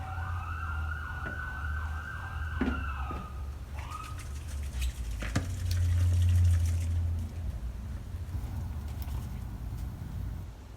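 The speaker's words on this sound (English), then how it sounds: "can you hear the fire truck going by?" A fire truck siren passing outside, heard from indoors with a wailing, rising and falling tone early on, then fading, with birds chirping and low rumbling traffic underneath.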